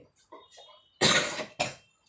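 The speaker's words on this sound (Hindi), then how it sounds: "खांसी भी बहुत होता है।" Two close coughs, a loud harsh one followed by a shorter second, after a few faint murmured sounds.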